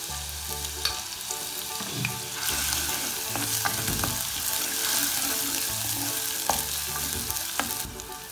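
Crushed ginger and garlic frying in hot oil in a clay pot, a loud crackling sizzle that swells and eases, with scraping stirs and low thuds against the pot, and no voices.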